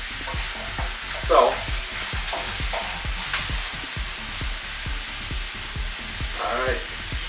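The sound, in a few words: vegetables stir-frying in peanut oil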